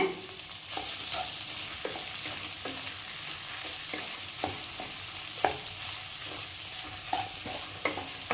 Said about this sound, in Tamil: மசாலா அதை இதோடு சேர்த்திடலாங்க சேர்த்திட்டு நல்லா ஒரு மூணு நிமிஷம் கலக்கி விட்டு மூடிடுங்க